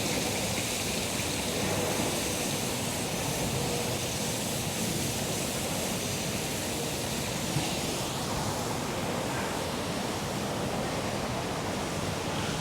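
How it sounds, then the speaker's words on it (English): A waterfall roars in a steady broadband rush, close and continuous, with no break in the wash of falling water. "I tried to take video of the waterfall"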